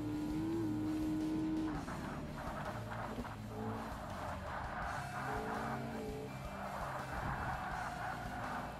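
A race car in Forza Motorsport slides tail-happy through a lap, its engine droning steadily with wavering pitch and tire scrubbing as it skids, loud and continuous throughout.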